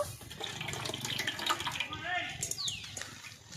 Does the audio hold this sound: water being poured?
yes